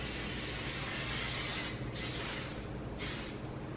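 Cooking spray hissing from a can onto a baking sheet while making cookies, a steady loud broadband spray with brief pauses around two and three seconds, close up and without talk.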